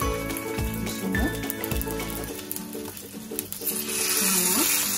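Salmon sizzles and spits in a hot pan, a steady crackling hiss with some clanking of utensils near the start.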